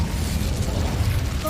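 The Incendio fire spell cast in Hogwarts Legacy, a close, low roaring burst of flame with crackling pops, sustained and fairly loud over the whole moment.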